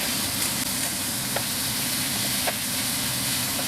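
Pork sizzles and fries on high heat with garlic and chili in a non-stick pan, a steady dense hiss with a few faint clicks of stirring throughout.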